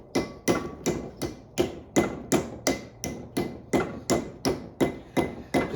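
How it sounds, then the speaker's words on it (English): Hammer tapping a part into place during a disc brake conversion on a 1962 Pontiac Grand Prix, about fifteen sharp metallic taps in a steady even rhythm, close and clear with no talking. "you can just use the hammer to get down and make sure it's"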